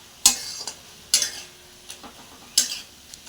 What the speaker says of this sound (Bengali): তো চলো এখন শাকটা এবার আর একটু নেড়ে দিই, নাড়িয়ে এবার নামাবো।